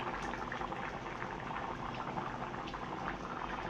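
A pot of tilapia fish curry with potatoes bubbles and simmers steadily, a constant close, moderately loud boiling burble with no talk over it.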